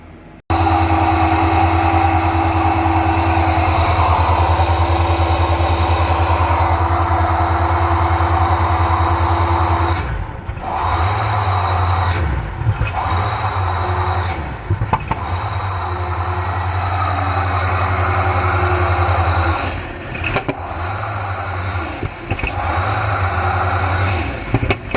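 A car engine idles with a steady low rumble that runs throughout, broken by a few brief knocks and shifts in the note partway through.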